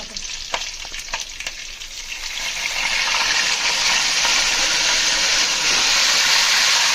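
Green chillies and mint tempering in hot oil for a Sunday country-chicken curry, starting with a few sharp stirring clicks before swelling into a loud, steady, close sizzling hiss that fills the rest of the stretch.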